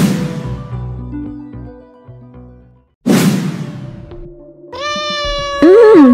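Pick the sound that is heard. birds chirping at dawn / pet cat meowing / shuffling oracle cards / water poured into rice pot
pet cat meowing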